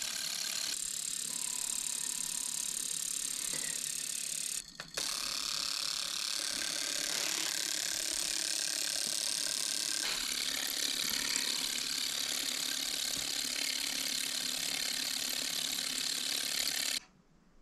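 Remanufactured four-hole fuel injectors spraying on a test bench make a continuous fast mechanical ticking and buzzing chatter close to the microphone, pausing briefly once and then stopping abruptly near the end.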